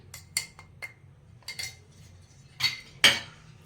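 Several sharp, metallic-sounding knocks at irregular intervals, a few louder strikes near the end, as garlic, cumin and chilli powder are pounded with a mortar and pestle.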